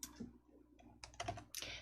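Computer mouse clicks and keyboard taps sound in quick succession at a desk while working in a word processor's text box, close and crisp, several clustered bursts over a low background hum.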